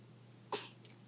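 A baby gives a single sharp, quiet sneeze, a short burst followed by a faint breathy trailing sound, in an otherwise quiet room.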